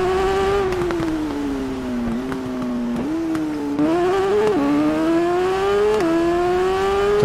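Racing motorcycle engine in TT Isle of Man Ride on the Edge 2 holds a loud, steady high-pitched drone, pitch rising and dipping with gear shifts and throttle changes.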